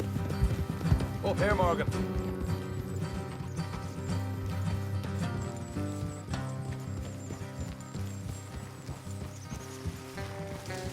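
Horses trotting with steady clip-clop hooves and an occasional whinny in the open-world Western game Red Dead Redemption 2, set against a busy music score while someone talks over them.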